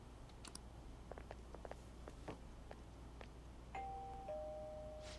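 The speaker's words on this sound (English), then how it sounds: "You ring the bell." A doorbell chime rings at a house door in the video game Persona 5 Royal, after a scattering of light taps and clicks. The two clear tones come close together and linger over a quiet background.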